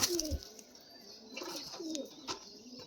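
Soft pigeon cooing, a few low rolling coos close by with faint rustling in between, no speech.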